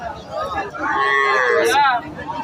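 A loud, drawn-out cow moo rises and falls over a couple of seconds, with faint crowd murmur behind it, at the Dhanbari cattle market in Bangladesh.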